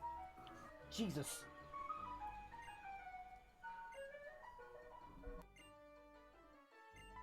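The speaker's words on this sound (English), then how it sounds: "Was that an ice cream truck?" Outside, an ice cream truck plays its tinkly electronic jingle, a repeating chime melody that drifts in at moderate volume. People talk and exclaim over it.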